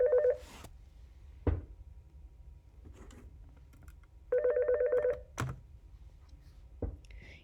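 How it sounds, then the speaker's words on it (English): A telephone rings twice in short electronic bursts of trilling tones, separated by a pause, with scattered clicks and faint taps in between in an otherwise quiet room. "Sorry for the phone ringing."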